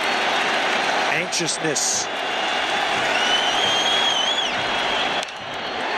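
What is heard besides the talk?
baseball stadium crowd roaring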